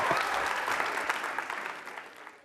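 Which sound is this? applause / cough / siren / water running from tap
applause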